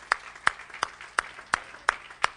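Seven sharp, evenly spaced claps from a congregation praising the Lord, steady and moderately loud with a quiet room behind.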